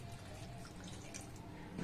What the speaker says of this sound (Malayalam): ഇതിനകത്തേക്ക് ഇത് വെന്ത് വരുന്നതിനായിട്ട് അര ഗ്ലാസ് വെള്ളം കൂടി ഒഴിച്ചു കൊടുക്കാം.